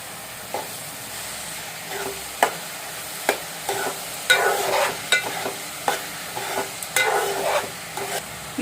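Curry leaves fry with onions, salt and turmeric in a pan for a dried fish and onion curry, a steady sizzle punctuated by sharp spoon taps and bursts of crackling spatter, close and clear without talking.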